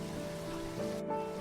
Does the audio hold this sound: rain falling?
yes